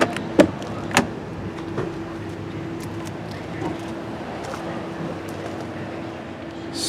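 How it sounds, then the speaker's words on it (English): A 2019 Lincoln MKC Reserve's power mirrors fold in and doors lock, giving a couple of sharp clicks early on followed by a faint motor whir under steady background noise. "If you press that little pattern right there on the top of the door, the mirrors will fold in and the doors will lock."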